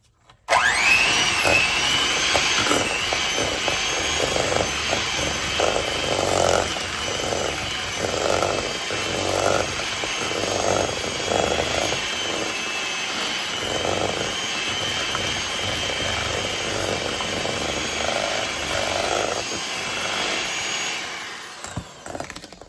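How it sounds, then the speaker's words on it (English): An electric mixer beating cream cheese for pumpkin cream cheese strudel muffins runs on low speed, giving a loud, continuous motor whir with a rhythmic pulsing from the beaters, close by and steady for about twenty seconds. "Okay, I'm just going to mix this until it's fluffy and soft."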